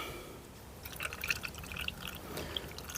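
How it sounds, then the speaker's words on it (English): Coolant pours into the cooling system of a Peugeot 207 with its bleed screw removed, a faint, close trickle broken by small drips and splashes. "Right, let's get the coolant filled."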